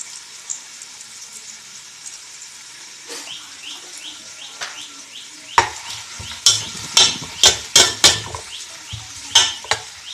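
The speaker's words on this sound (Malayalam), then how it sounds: "ആദ്യം ഒന്ന് ഉള്ളി പൊരിച്ചെടുക്കാം" Onions hiss and crackle in a pan while a utensil repeatedly scrapes and clanks against the metal, the strokes growing louder and quicker.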